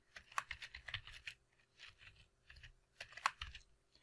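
Fingers typing code on a computer keyboard, bursts of quick clicky keystrokes with short pauses between them, close and moderately quiet, no voice over them.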